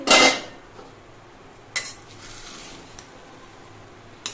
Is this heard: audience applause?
no